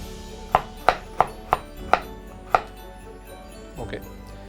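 A sharp knife cuts thin julienne slices of carrot on a board: six crisp, evenly spaced chops, then a softer double cut, close and clear with no talking.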